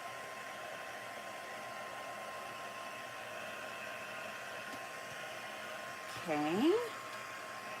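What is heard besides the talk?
hair dryer drying handmade paper cards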